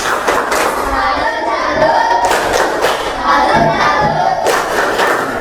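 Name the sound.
class doing the "tepuk salut" clapping chant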